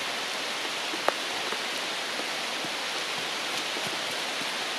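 Steady rain falling through a forest, a dense even hiss with scattered louder drops tapping close by, no voices.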